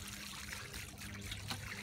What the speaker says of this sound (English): So this here is our first watering.